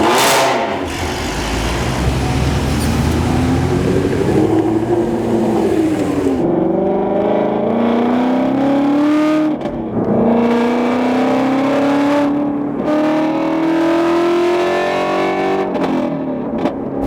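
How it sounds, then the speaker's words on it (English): A car with active exhaust drones and rises through repeated gear changes, each pull climbing in pitch before dropping, loud and close with a gravelly exhaust tone. "That's the nice thing about active exhaust on this thing. It can be loud"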